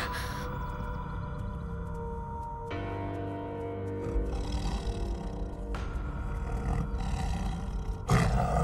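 A tiger roars in a wild forest setting, a deep sustained rumbling roar that swells and fades in long waves, loud and close, with no voices over it.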